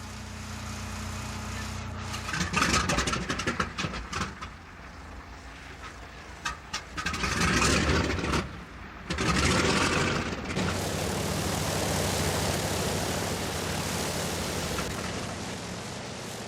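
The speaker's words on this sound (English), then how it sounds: "After a week of work, the engines are running smoothly and the oil leaks have been eliminated." Boeing B-29 bomber engines run in a loud, broad roar that surges and drops, with bursts and gusty noise throughout and no voices.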